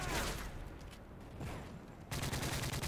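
Gunfire from a shooter video game on a map called Terminal: quiet, rapid bursts of shots and rattling automatic fire, one cluster after another, with a denser volley near the end.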